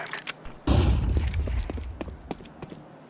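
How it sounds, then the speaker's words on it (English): A flashbang grenade goes off in Counter-Strike 2 as a single sharp burst that leaves a ringing wash, followed by scattered clicks and game sounds fading out. "I'm throwing the flashbang!"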